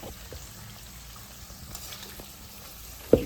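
Onions frying in a pan for biryani, a faint steady sizzle with light stirring, ending in a sudden sharp knock.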